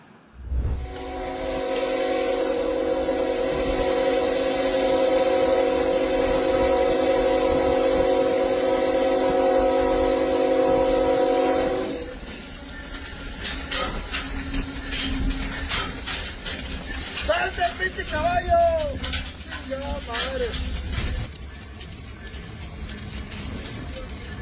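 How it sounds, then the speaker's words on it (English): A steam locomotive departs with a loud, sustained whistle for about twelve seconds, followed by hissing steam, rumbling wheels and clanking cars; a few squealing tones appear late. "That's the kind of grand exit only a steam locomotive can pull off."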